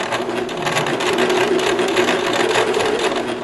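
Sewing machine stitching fabric with a fast, continuous mechanical chatter, close and loud throughout, with no talking.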